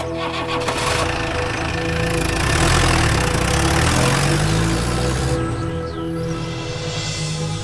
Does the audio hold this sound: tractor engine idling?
yes